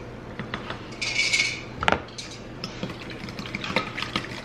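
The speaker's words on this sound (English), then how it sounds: "I'm gonna whisk this together." Brown sugar glaze whisked in a bowl: brief close clinks and scraping of a whisk against the bowl, with a sharper metallic rattle midway, no voices.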